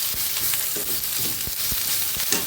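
Boiled lentils for Bengali street-style ghugni fry in a pan with a loud, continuous close-up sizzle and soft stirring thumps throughout.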